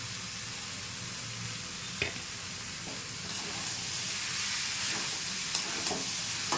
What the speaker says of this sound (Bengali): খানিকক্ষণ কষিয়ে নেব।